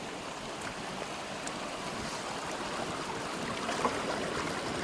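Water from a small woodland stream runs steadily as a container is filled at a bivouac camp, a constant close broadband wash with faint splashes and no voices.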